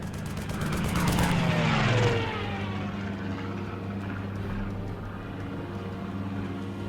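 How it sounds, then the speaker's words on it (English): A German fighter plane in a video game roars past, its engine swelling loud in the first two seconds with a falling pitch sweep, then fading to a steady rumbling drone. "A German fighter plane? He just shot at us!"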